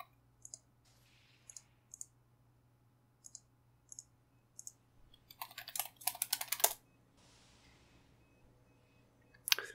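Sparse, spaced clicks come first, then a fast, dense run of keystrokes on a computer keyboard while a login command is typed, followed by quiet and a final click, close up with no talking.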